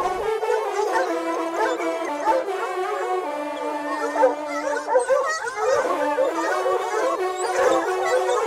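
A pack of 15 to 20 hunting hounds bays and howls continuously during a hare hunt with hounds in Charente-Maritime, many overlapping voices forming a loud, sustained chorus with rising and falling yelps.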